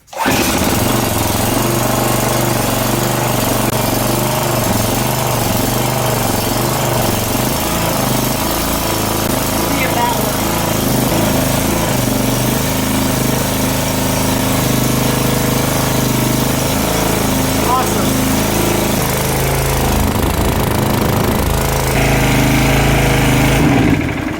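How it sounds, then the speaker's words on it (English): Small gas engine of a hydraulic log splitter running loud and steady close by, a rough chugging drone that continues unbroken throughout. "Looks like the hydraulic works and the engine runs fairly well"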